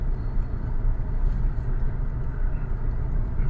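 Steady low engine and road rumble from a car on the move in the Philippines, heard from inside the cabin, continuous and fairly loud with no talking.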